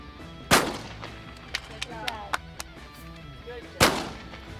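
Two loud, sharp shotgun blasts at clay targets ring out about three seconds apart, each with a short echoing tail, with faint clicks and rustles between them outdoors.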